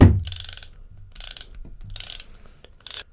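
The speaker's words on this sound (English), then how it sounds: "Take your 8mm Allen key, put it in this hole, and now just screw this in." Ratcheting clicks come from a Crankbrothers Mallet DH bicycle pedal part being screwed in with an 8mm Allen key during a service, in four short bursts of rapid close ticking separated by pauses.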